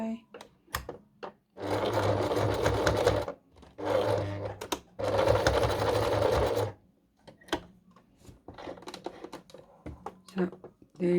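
A sewing machine stitching a small jacket for a Barbie baby doll runs in three sustained bursts of a few seconds each, separated by short pauses and scattered clicks and handling noises.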